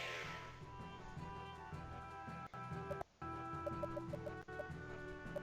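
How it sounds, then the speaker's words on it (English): A fire chicken clucks in the video game Radiant Historia, a run of short, evenly spaced clucks over steady game music, faint and with brief drops to near silence. "Oh yeah, it's a chicken, a fire chicken."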